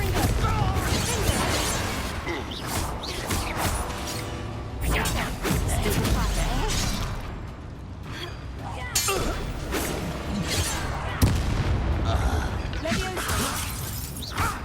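Confringo spell blasts in Hogwarts Legacy: repeated crashing, shattering impacts and whooshes during a fight, loud and close, mixed with game character voices speaking.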